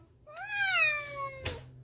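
A house cat gives one drawn-out meow in a bathroom, close and clear. The call rises and then slowly falls over about a second, and a short burst of rustling noise follows it.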